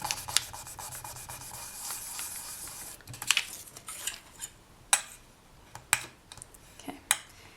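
A tool burnishes a slab of polymer clay, making soft continuous rubbing and scraping strokes close by, then a few sharper taps and clicks spaced about a second apart toward the end.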